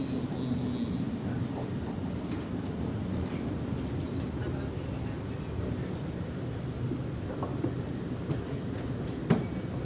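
Ride aboard a double-decker commuter train in Sydney, with a steady loud rumble of wheels and carriage noise throughout and a brief clank near the end, faint voices in the background.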